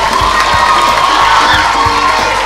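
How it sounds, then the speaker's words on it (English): A dense, loud wall of crowd cheering and shouting at a school speech day, children's voices prominent, holding steady at full volume for the whole stretch. "let's give them one last round of applause."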